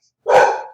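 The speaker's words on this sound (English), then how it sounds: "Sorry if you can hear my dog barking in the background." A dog gives one short, loud bark that rises abruptly and tails off quickly, heard alone with no voices during it.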